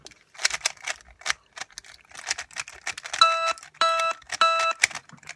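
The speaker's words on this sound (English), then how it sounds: "my phone just told me I have a warning" A phone sounds a warning alert: three bursts of rapid, evenly stacked electronic beeping, fairly loud and near, following scattered clicking and tapping sounds from handling a Rubik's cube.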